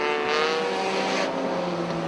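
Dirt modified race cars battling for the lead off the fourth turn of a dirt track at Airborne Speedway in Plattsburgh, New York, with a loud, continuous engine roar that swells slightly as the cars pass, and no voices.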